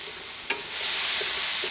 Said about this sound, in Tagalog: Ang weird pala ng feeling ng nagigisa ka ng pinya.